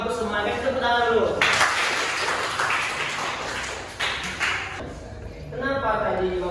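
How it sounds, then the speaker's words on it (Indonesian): A classroom group claps together in a loud, dense burst of applause lasting a few seconds, set between stretches of a teacher talking. "tepuk tangan dulu"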